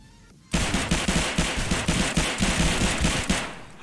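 A sustained burst of automatic gunfire in Escape from Tarkov, loud and close, with shots in a fast, steady rhythm that stops abruptly, as if the magazine ran dry.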